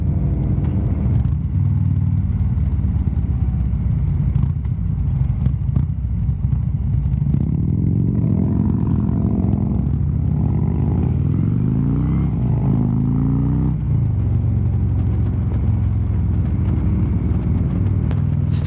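A Harley-Davidson motorcycle cruises on a hot day on the road from Yakima to Wenatchee, Washington, with a loud, constant engine rumble and wind roar that shifts slightly in pitch as it rides.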